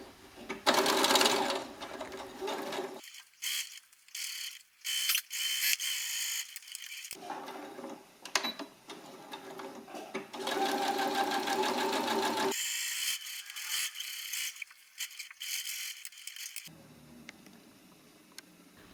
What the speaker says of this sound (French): On réalise la couture à 1 cm du bord